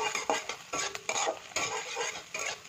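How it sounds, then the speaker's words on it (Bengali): A spoon stirs chopped onion through Maggi noodles with chili powder in a pan, giving rhythmic scraping strokes about twice a second over a soft sizzle, close and fairly quiet. "পেঁয়াজটা দিয়ে ভালোভাবে নাড়িয়ে নেব।"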